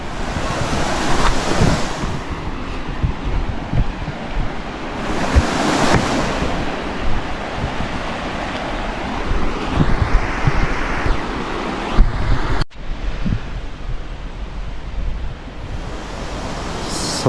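A mountain river rushes past while people wade across it, a broad, loud wash of flowing water mixed with gusty wind buffeting the microphone, with no voices over it.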